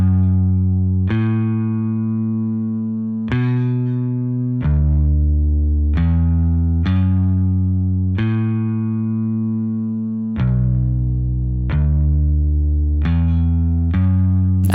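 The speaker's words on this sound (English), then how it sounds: "So a bass just comes in." A sustained synth bass line enters a track and plays alone, with long held notes changing pitch every second or two. The tone is thick and slightly distorted, steady and loud, with no voices over it.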